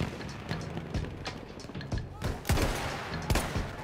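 Rapid gunfire bursts and sharp shots from the Battlefield 1 shooter game, with sniping during play, crackling loudly and densely in quick succession with thuds between.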